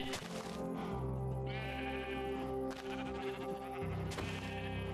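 Minecraft sheep bleat several times, loud and close, in wavering overlapping calls with thuds between them and no talk.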